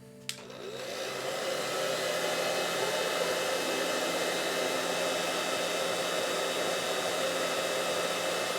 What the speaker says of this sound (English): Let's just hit this with a hairdryer because it's still wet.